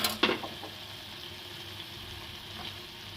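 Spiced pizza sauce simmering in a pan, a soft steady sizzle and bubbling with a few brief stirring clinks near the start, close and fairly quiet throughout.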